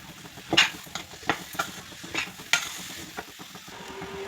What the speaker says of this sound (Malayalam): നമുക്കിനി ഇളക്കാം